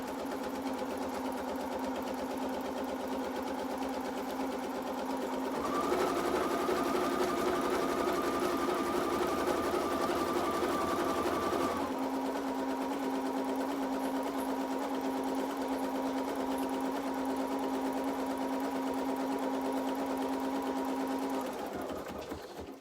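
An embroidery machine stitches white thread around a hoop with a long, steady mechanical hum and rapid needle chatter, shifting pitch partway through before settling back and stopping near the end.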